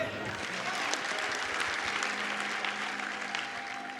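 Steady applause from a church congregation during a sermon, dense clapping holding at an even level throughout with no break.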